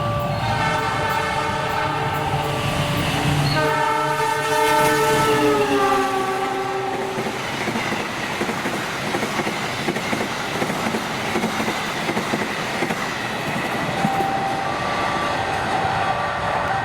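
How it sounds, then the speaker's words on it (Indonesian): The Walahar Express 389 passenger train sounds its horn in a few loud, sustained blasts, then keeps rumbling and clattering steadily past at close range through a station. "Baru nih kereta api Walahar Express 389 muncul."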